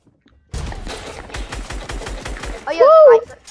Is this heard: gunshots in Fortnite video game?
yes